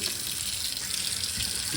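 Water runs steadily from a tap while a dusty Commodore VIC-20 plastic case is scrubbed underneath it, a continuous close splashing rush with no talk.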